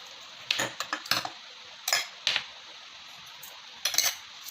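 Pork being mixed by hand with seasoning powder, salt and rice in a bowl for fresh Thai naem, heard as several close clinks and scrapes against the bowl in irregular bursts with quiet pauses between.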